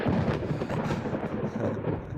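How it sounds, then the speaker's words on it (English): Deep thunder rolls through a stormy scene in the video game Dream Daddy, a brief low rumble swelling and fading over a soft wash of rain. "Of course, thunder rolls."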